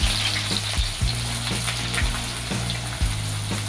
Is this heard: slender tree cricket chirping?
no